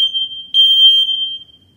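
A household smoke detector beeps during a test: one loud, piercing high electronic tone, briefly broken and then sustained before it fades, with no one talking.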